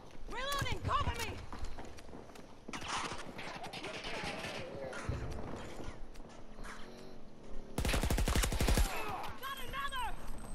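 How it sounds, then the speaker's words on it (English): Rapid automatic gunfire in Battlefield 2042, bursts of sharp shots rattling on and off, with one loud dense volley near the end amid other battle noise and voices shouting. "I just shot through that wall."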